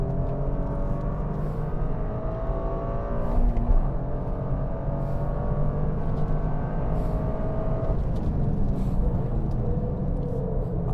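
Steady engine hum and road rumble from inside a Toyota GR Corolla RZ Morizo Edition cornering with its GR-FOUR all-wheel drive set to a 30:70 front-rear torque split, the pitch rising and falling as the throttle changes.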